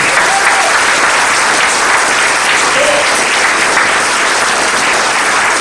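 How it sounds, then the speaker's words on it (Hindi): Loud, dense applause from an audience at a motivational success session led by a diamond leader, a steady wash of many hands clapping that holds evenly throughout without pause. "दोस्तों जोरदार तालियां लीजिए।"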